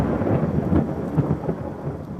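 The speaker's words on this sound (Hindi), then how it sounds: "तभी ऊपर से बिजली कड़कने लगी।" Thunder crackles and rolls in a continuous low rumble with irregular swells, mixed with the steady hiss of falling rain, loud and close with no voices.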